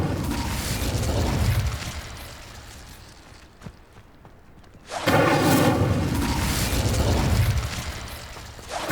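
The Incendio fire spell cast in Hogwarts Legacy, a loud whooshing burst of flame with rumbling booms, dying down to a near-quiet lull before erupting again in another sustained fiery blast.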